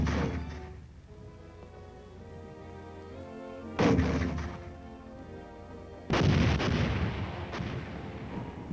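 Military mortars and artillery fire in a training film: two heavy booms with long rumbling decay, loud and distant-sounding, over a constant low background hum.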